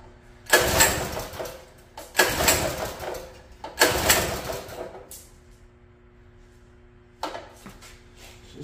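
A small engine on a free mini bike that has sat unused cranks in three strong pull bursts without catching, then a short fourth attempt follows after a pause, with nothing heard between.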